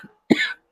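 One person gives a single short, sharp cough, close and clear, after a faint brief sound, then silence.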